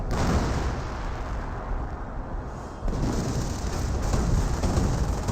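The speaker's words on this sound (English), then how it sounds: "The gun itself could potentially survive that barrage." An off-map artillery barrage rumbles in the Company of Heroes video game, a continuous loud wash of heavy explosions and debris that barely eases at one point before surging again.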